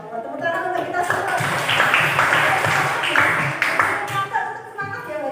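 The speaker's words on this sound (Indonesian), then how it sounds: "Tepuk tangan untuk kita semua." Children in a classroom clap together, a busy, close burst of hands that swells and then tapers, with voices and chatter mixed through the clapping.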